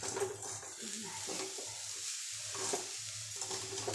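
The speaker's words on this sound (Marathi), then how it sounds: "आता हे सर्व एकदा डवळून घेतले जाईल" A spoon stirs kanda poha with onion and coriander in a pan, giving soft repeated scraping strokes at a steady rhythm over a faint sizzle, close and quiet, with no talk.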